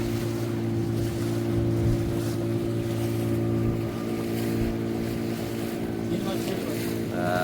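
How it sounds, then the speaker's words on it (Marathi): A boat chugs slowly across the sea near Suvarnadurg Fort, its engine a steady low drone under wind and water wash, continuous and fairly close throughout. "बोट जाणार हळूहळू हळूहळू"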